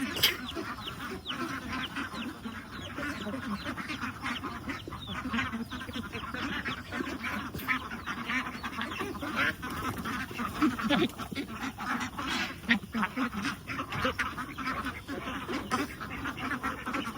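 Ducks quack in a steady, busy chorus at a farm pen, many birds calling over one another at moderate distance throughout, with no talk.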